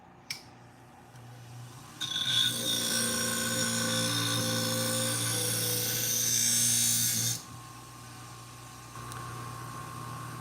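Upholstery scissors blade for an auto upholstery shop pressed against a running grinder, a bright continuous grinding hiss lasting about five seconds over a steady motor hum, then cutting off while the motor keeps running.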